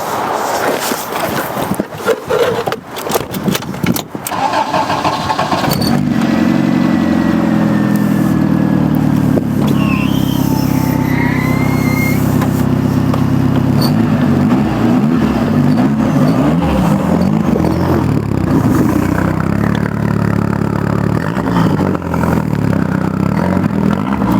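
A lowered stance car's engine runs loud and close, sputtering and revving at first, then settling into a steady, droning idle with occasional blips, no talking.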